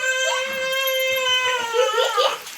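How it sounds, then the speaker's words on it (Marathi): Children wailing and shouting while playing nearby during village cooking, a high, drawn-out crying voice rising and falling, fairly close and loud, with a few low thumps underneath. "पोरांचा खेळ चालाय पोरांचा आरडणं ओरडणं"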